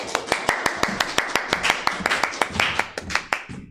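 Steady, evenly paced hand claps, around eighteen crisp claps in a row, sound at a youth church worship service streamed online. The clapping is fairly close, with faint room sound between claps.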